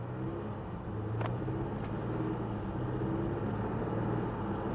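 A 2022 Hyundai Elantra N with a dual-clutch transmission, driven in comfort mode, hums with a steady engine and road drone inside the cabin, shifting gears smoothly without a sharp snap.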